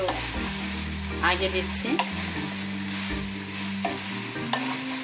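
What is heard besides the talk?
mixed vegetables stir-frying in a pan, Chinese restaurant style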